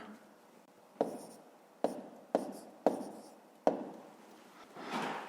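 Pen on paper writing out fractions for a fifth-grade maths exercise, a series of sharp taps and short scratching strokes in an uneven rhythm, close and fairly quiet.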